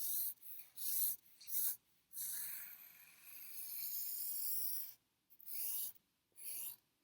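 Pencil sketching on paper, with repeated rubbing, rasping strokes in rhythmic bursts and one longer continuous stroke, close and soft.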